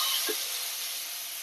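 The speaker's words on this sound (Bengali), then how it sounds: "তাই কড়ায় তেল দিয়ে দিয়েছি" Oil heats in a kadai (wok), giving a continuous, fairly loud hiss and sizzle with one brief soft knock near the start.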